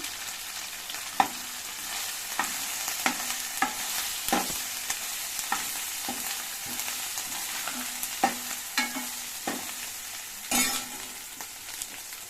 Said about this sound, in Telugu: బాగా పచ్చి పచ్చివాసన పోయేటట్టు బాగా వేయించాలన్నమాట